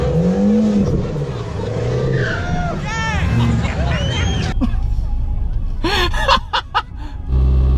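Cheap VW Beetle accelerating down a drag strip: a close engine roar and revving that rise in pitch, heard under excited voices, gasps and laughter from people nearby.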